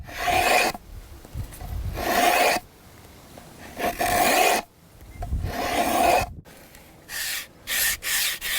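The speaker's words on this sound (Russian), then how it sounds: "Наждачку берем сначала крупную, крупнозернистую, затем мелкозернистую" Wood is sanded by hand with coarse and then fine sandpaper, giving loud rasping strokes in a back-and-forth rhythm, several long passes followed by a run of shorter, quicker scrapes.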